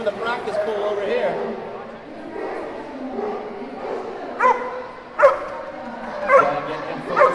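Barking erupts at a dock diving practice pool at the 2017 AKC National Championship, with several loud, excited barks spaced over the second half above a background of voices and crowd murmur.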